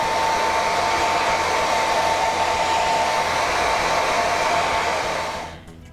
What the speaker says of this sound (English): I'm going to use my hair dryer to solidify it.